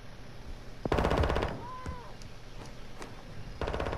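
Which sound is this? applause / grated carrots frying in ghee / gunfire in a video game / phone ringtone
gunfire in a video game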